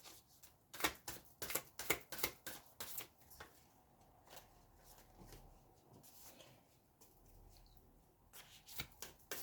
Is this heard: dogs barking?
no